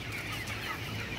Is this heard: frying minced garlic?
no